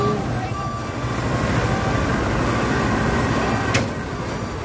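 A heavy dump truck is hauled slowly up out of a swamp by two tow trucks, with a loaded tronton truck as counterweight. Loud, steady diesel engine roar and road rumble run throughout without letup.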